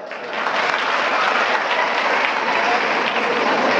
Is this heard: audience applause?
yes